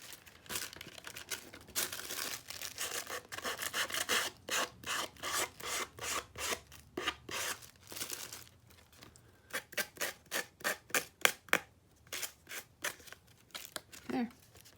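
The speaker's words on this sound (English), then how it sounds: "fold that under and just sand it until it just pulls it right off" Sandpaper is rubbed against the folded edge of a jumbo playing card tag to tear away excess paper, producing a close run of quick, rasping strokes that is faint at first and then louder.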